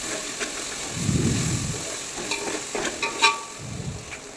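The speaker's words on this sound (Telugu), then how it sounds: "అల్లంపాయ పేస్ట్ వేసుకోవాలి మంచిగా కలిపేసుకోవాలండి" Ginger-garlic paste sizzles and fries in a pan while a spoon stirs it, with bursts of scraping and soft clatter over a steady hiss, close and moderately loud.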